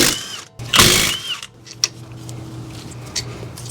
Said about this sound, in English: Let's see if this little mid-torque impact will take these out.